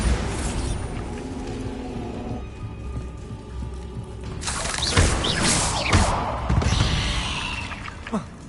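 Bombarda blasting-spell explosions in Hogwarts Legacy combat: a few heavy booming bursts over a rumbling, rain-like backdrop of spell and battle noise, with a voice faintly present.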